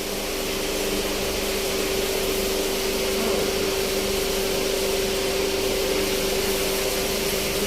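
A PFI boat engine runs steadily and loudly throughout, a continuous droning whir with a strong steady tone and no pauses or voices.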